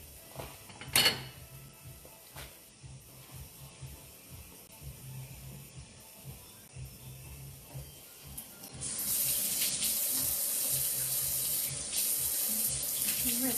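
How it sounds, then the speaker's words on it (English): Kitchen faucet running while hands are rinsed during a dirty rice cooking demo, a faint drip and clatter first, then a steady close hiss of flowing water that grows louder. "Rinse my hands real quick,"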